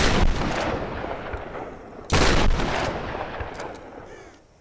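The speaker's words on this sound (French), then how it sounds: "On va tirer de 3 coups. Mais avec un fusil à pompe parce que ça fait plus de bruit." Pump-action shotgun fired in the Tomb Raider video game, with two heavy, booming blasts a couple of seconds apart, each trailing off in a long rumbling decay, and no talking.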